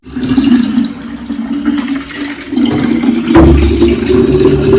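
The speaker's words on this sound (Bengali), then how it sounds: "সব জল ভরতে হবে তা একটা ভরবো" Water fills a container in a loud, continuous rushing stream, its pitch rising steadily as the vessel fills, close and alone with no talking.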